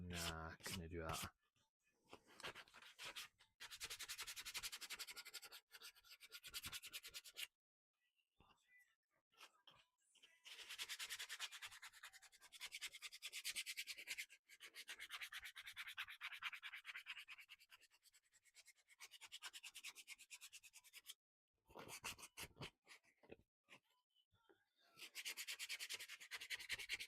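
A wooden picnic bench being sanded, with long raspy rubbing strokes in bursts separated by brief pauses, close and fairly steady.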